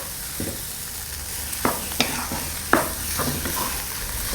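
Yellow curry-powder fried rice with pineapple and raisins stir-fried in a pan, a steady soft sizzle broken by sharp scraping clacks of the spatula against the pan, close and alone.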